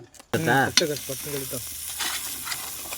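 Crab fry (nandu varuval) sizzling in a pan: a steady, hissing fry close up, with a voice speaking briefly over it at the start.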